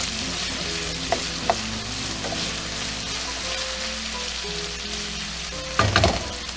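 Minced garlic sizzles steadily in hot oil for a seafood paella, a constant close frying crackle with a few soft stirring knocks and a louder scrape of the spoon near the end.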